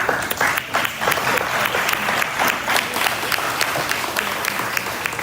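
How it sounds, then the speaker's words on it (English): An audience at a weekly press conference gives the snow team a big round of applause, a dense, loud wash of clapping with some crisp individual claps, continuous throughout. "I want to start by giving a giant round of applause"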